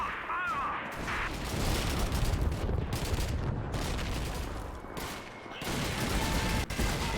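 Artillery strikes hammer tanks in Call of Duty 2 as a dense barrage of booming blasts and crackling gunfire, loud and continuous with rolling impacts throughout.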